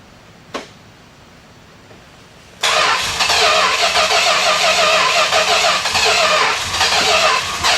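A 1969 Plymouth Road Runner engine, not run in 40 years, cranks and catches at once, settling into a loud, steady rumble that keeps running; a faint click comes just before.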